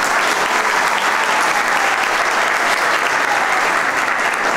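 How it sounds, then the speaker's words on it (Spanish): Audience at a solemn municipal session marking a canton's anniversary breaks into dense, sustained applause, loud and even from start to finish with no speech over it. "Más fuerte el aplauso, se lo merece."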